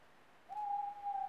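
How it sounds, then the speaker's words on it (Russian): A single sustained owl hoot, a steady clear tone used as a calm nature background sound in the Prana Breath breathing app, starting partway in and holding smoothly to the end at moderate level. "Это сова"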